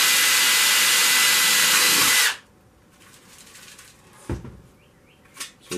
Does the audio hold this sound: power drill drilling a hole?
yes